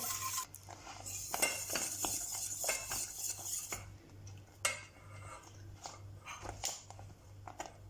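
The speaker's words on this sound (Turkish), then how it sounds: "ocağımın altını açıp pişinceye kadar karıştırarak pişiriyorum" Utensils scrape and clink against a pot as profiterole cream mixture is stirred on the stove, irregular close knocks and scraping strokes over a low steady hum, with no voices.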